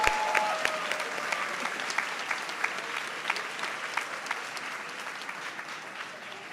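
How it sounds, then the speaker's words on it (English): A crowd applauds at an academic opening ceremony with sustained clapping, dense and even at first, then gradually thinning and softening toward the end. "So I feel like you should all give yourselves a round of applause right now."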